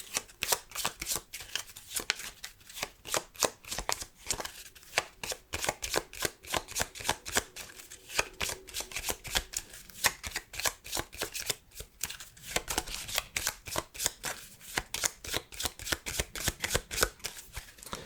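Pokemon cards are riffle-shuffled and cut over and over for a casino-style card game, sharp fluttering bursts in a steady rhythm, close and crisp with no talking.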